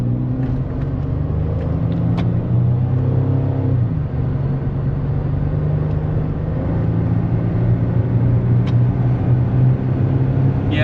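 A supercharged Buick accelerating, its engine a steady heavy drone with rising revs close inside the cabin, continuous and alone without talk.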